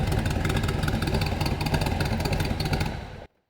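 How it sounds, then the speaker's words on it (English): A 1965 Corvette C2 convertible with side pipe exhaust runs close by with a loud, rough, throbbing burble and a slight rise in revs, then cuts off abruptly near the end. "That is filthy, nasty side pipe sound."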